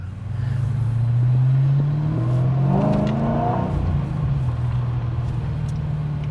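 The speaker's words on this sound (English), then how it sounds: "You can definitely hear it. Yeah, the blower" A powerful supercharged Dodge Charger GTS engine with a blower revs up with a rising whine, then settles into a deep, rumbling idle, heard up close without talking.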